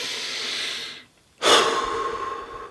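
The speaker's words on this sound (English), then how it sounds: "What I want you to do is breathe for a moment." A slow, deliberate breath drawn and released close to the microphone during a meditation: a long airy exhale, a brief pause, then a strong inhale, with no talking.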